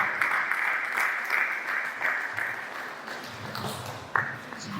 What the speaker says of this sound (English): A big round of applause for the coordinating choir.